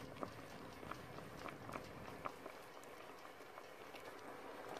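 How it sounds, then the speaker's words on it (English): Yam porridge with onions and blended scotch bonnet pepper boils in a pot, giving a faint, steady bubbling simmer with small irregular pops and no talking. "allow that to boil for further 2 to 3 minutes"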